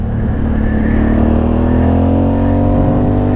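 An Aprilia Shiver 750 A2 motorcycle engine revs steadily below 6000 rpm, loud and close, with a rising tone held over a few seconds and no voices.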